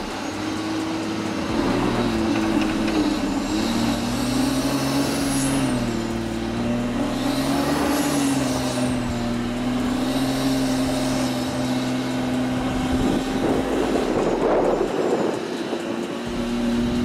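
A 2020 BMW X5 SUV crawls very slowly over a difficult off-road obstacle, its engine holding a steady low drone with slight rises in revs and faint creaks, close and continuous without talk.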